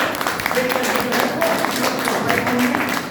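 Audience applause at a meeting welcoming star achievers, a steady crowd of clapping hands throughout the short moment, with a voice speaking over it.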